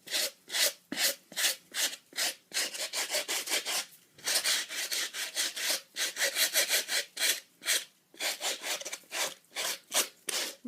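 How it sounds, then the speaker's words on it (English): A stiff abrasive bristle brush scrubs a suede UGG boot in quick, rhythmic back-and-forth strokes, a close, dry rasping with brief pauses between bursts and no voices. "don't scrub too aggressively because these bristles are really quite abrasive"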